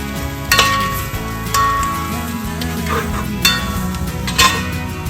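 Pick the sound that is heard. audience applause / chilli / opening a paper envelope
chilli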